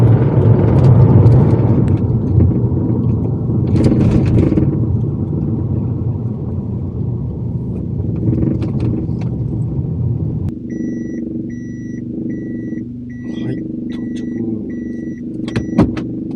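A Toyota TownAce camper van fitted with a camper shell cruises on the expressway and slows into the Otsu service area, its steady engine and road rumble loud at first, then easing. A few beeps sound near the end.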